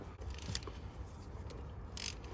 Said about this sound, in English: So now we're going to undo the bolts.